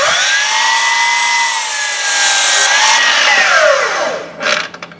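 A power saw cuts cedar boards to length for a raised garden bed, a steady, loud whining cut with pitch sagging and rising as the blade loads, ending with a brief rattle as the piece drops.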